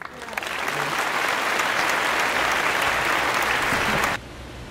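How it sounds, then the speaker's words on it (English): Sustained applause from a small group at home, steady clapping for about four seconds before cutting off abruptly, with a little talk underneath. "Everyone give Buddha Belly a round of applause."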